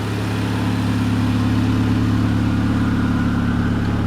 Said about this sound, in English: The exhaust has a small leak